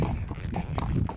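Hooves of a horse named Barão walking on a ranch, a few soft clip-clop strikes spaced irregularly over low background rumble, moderately close and fairly quiet.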